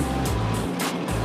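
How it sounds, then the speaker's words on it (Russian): The 12-cylinder diesel engine of an Akatsiya self-propelled howitzer, almost 39 litres in size, rumbles with a deep, continuous drone whose tone shifts briefly, heard fairly close. "Двигатель самоходки дизельный"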